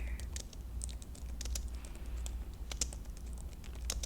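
Keys clatter on a computer keyboard in steady, quick bursts of soft clicks over a low background hum, close and fairly quiet, with no talking.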